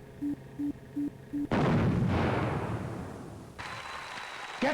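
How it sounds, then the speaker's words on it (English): Cart bomb exploding in the computer game The Journeyman Project, four short rhythmic beeps followed by a sudden loud blast that rumbles and decays over a couple of seconds, then a lower lingering hiss and a final thump. "Cart bomb activated."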